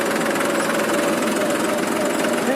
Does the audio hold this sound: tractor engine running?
yes